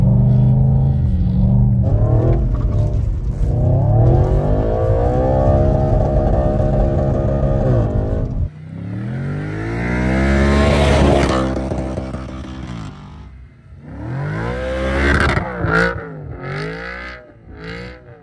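Audi RS4 quattro winter beater drifting on snow: loud, close engine roar with rising and falling revs through gear changes, surging again mid-way and fading into uneven bursts of throttle toward the end.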